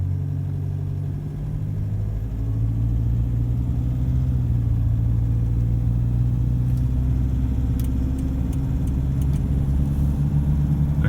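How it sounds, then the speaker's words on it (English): Vehicle engine running steadily after injector replacement, a continuous low rumble with a faint, persistent rattle riding on top, heard close and alone. "you've got a slight rattle there, not as bad, but it stays there"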